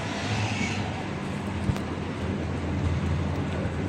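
Highway traffic heard from behind buildings at dusk, a broad continuous roar with wind buffeting the microphone and a brief thump near the middle.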